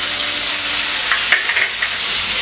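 Green peas dropped into hot oil spiced with Kashmiri chilli powder, giving a loud, continuous close-up sizzle throughout with a brief sharper burst midway.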